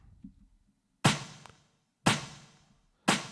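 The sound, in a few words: solo snare drum sample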